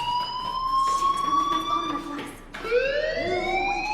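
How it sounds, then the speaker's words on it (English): A fire alarm rings in the video game Life Is Strange Remastered, a loud wailing siren tone that sweeps steadily, breaks off briefly, then rises again, with faint voices underneath. "Hey, do you hear that fire alarm? That means you should be outside."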